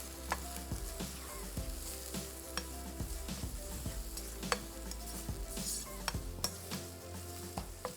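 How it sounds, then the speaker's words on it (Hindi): Onions sizzle over fairly high heat in a pan while a utensil stirs them, steady frying hiss broken by repeated sharp scrapes and clicks against the metal, close and with no talking. "शुरू में प्याज चूल्हे को ज़रा सा तेज़ रखें ताकि प्याज नरम होके अपना जो इसमें कुदरती पानी होता है"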